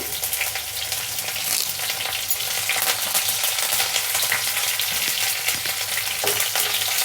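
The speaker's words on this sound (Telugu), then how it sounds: "పచ్చివాకును పోయేదాకా ఉల్లిపాయలను వేయించుకుందాము" Sliced onions and curry leaves fry in a pan for a cabbage and chickpea curry, producing a dense, loud, steady sizzle and crackle that runs unbroken from start to finish, close up and without speech.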